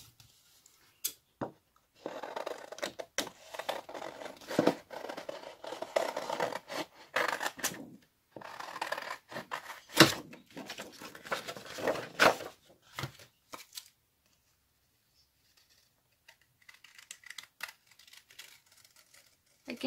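Scissors cut out paper for a junk journal, with irregular snips and crisp paper rustling up close, broken by short pauses and a quieter stretch near the end.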